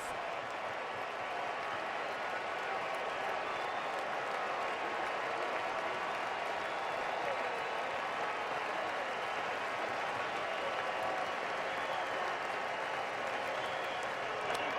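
A Fenway Park crowd stands and applauds with two outs in the ninth inning of a 2009 playoff game, a steady, unbroken wash of clapping and murmuring from thousands of fans that holds at one level throughout.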